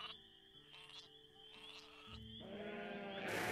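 Sheep bleating in the video game Gothic 2 on a farm, a few short wavering calls over a steady game soundtrack, rising in loudness toward the end.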